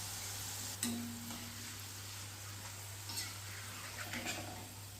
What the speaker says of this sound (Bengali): একইভাবে কিন্তু আমি বাকি আলুগুলোকেও ভেজে নেব